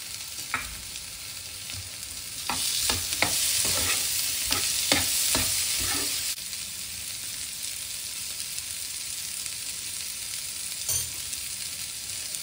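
Tomatoes fry in a pan of sautéed masala for masala buns, with a run of quick scraping stirs over a steady sizzle that then settles into gentle, continuous frying.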